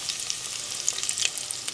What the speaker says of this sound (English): while I'm continuing frying them delicious salmon potato bites